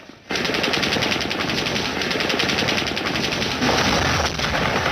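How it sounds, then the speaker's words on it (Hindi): Sustained rapid rifle fire rattles loudly and continuously, a dense volley of shots with no pauses, close and harsh. "राइफलमैन ढोकल सिंह के बाएं कंधे में गोलियां लग गईं।"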